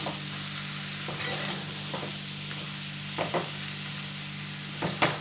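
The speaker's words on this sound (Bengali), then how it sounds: "খুব ভালো করে আলুটা আর মাছটা ভালো করে কষিয়ে নিতে হবে" Potato and fish being sautéed in a pan for traditional alu ghati give a steady, close sizzle with a low hum beneath it and a few sharp stirring scrapes spread throughout.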